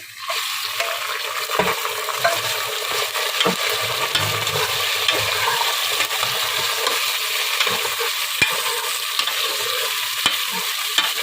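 Beef pieces frying in a pan with golden-brown onions for aloo gosht, a continuous hissing sizzle with occasional stirring knocks and clinks, close and steady, no voices.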